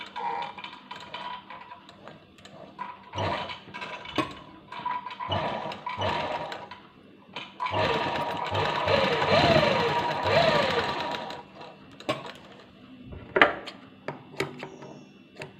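A sewing machine stitches a folded palazzo trouser hem in short, loud bursts of whirring, with a longer continuous run in the middle, as someone talks between the bursts.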